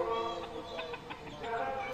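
Native country chickens cluck softly nearby in a rural yard, a few short, faint calls against low background noise.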